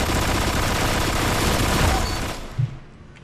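An auto rifle fires in the video game Destiny: a loud, rapid, continuous burst of shots for about two and a half seconds, then a short thud and quiet.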